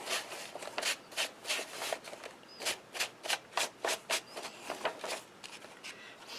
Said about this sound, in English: And then you also can use the brush to kind of brush off the excess.